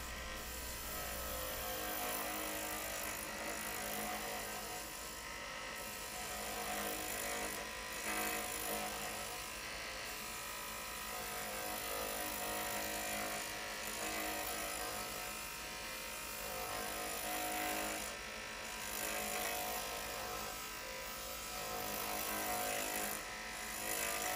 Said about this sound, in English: I'm using my hardened steel gouge rather than my nice carbide tip tool